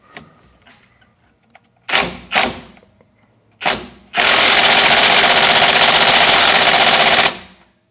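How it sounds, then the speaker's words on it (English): A 3/8-inch mini impact wrench on a differential bolt of a 2006 Chevrolet Colorado, with a few short hammering bursts followed by one loud, sustained rattling run of about three seconds, close up. "that's just a 3/8 impact mini"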